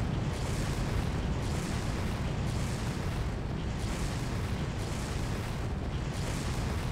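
Enemy gunfire rages in the video game Far Cry, a dense, unbroken roar of shots and blasts that stays loud throughout with no pauses and no talking.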